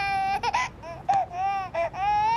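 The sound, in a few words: baby crying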